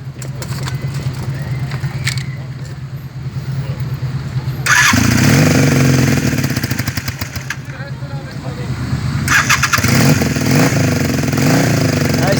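A motorcycle engine catches partway through and roars loudly up close, revving hard in surges over a steady idle, with faint voices in the background.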